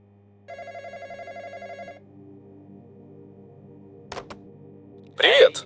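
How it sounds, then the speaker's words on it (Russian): A telephone rings in a Roblox roadside shawarma shop game, a short run of electronic trilling bursts lasting about a second and a half, followed later by a brief clunk and a louder burst of noise. "Вторая ночь началась со звонка по телефону."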